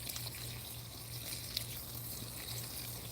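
Water runs and trickles into a plant-feeding bucket on a suburban homestead, a quiet, steady splashing heard close up alongside a faint low hum.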